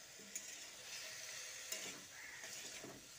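Boiled cauliflower stalks, leaves and radish being stirred into a pan of vegetables, a faint sizzle with soft scraping spoon strokes and a couple of brief clinks, quiet and close.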